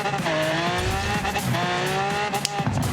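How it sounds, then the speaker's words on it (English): Tires spin and squeal from a dead stop in the racing game Forza Horizon 3, a loud continuous engine roar climbing steadily in pitch through repeated gear changes, with tire screech layered over it. "We're getting tire spin up to about 50 to 60 miles an hour here."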